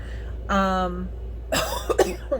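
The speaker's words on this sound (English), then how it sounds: "Keep coughing. Sorry." A person coughs a few times in quick, rough bursts near the end, following a short voiced sound, all close to the microphone.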